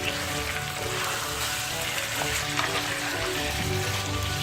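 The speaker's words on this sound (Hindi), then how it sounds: "चिकन अच्छी तरह से सौते हो चुका है जिंजर गार्लिक के साथ।" A kilogram of chicken sautés with ginger garlic paste for green masala biryani, giving a dense, continuous sizzle at an even level throughout, with a steady tonal hum underneath.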